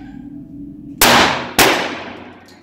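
Two loud gunshots ring out at an outdoor gun range about half a second apart, each with a sharp metallic clang from a steel target and a long decaying ring; quiet before the first shot.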